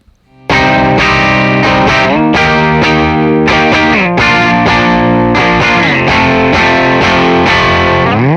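Electric guitar through a 1966 Fender Deluxe Reverb tube amp with a Jensen C12NA speaker, warm and slightly overdriven, playing a steady sequence of strummed chords and notes, loud and close, no voices.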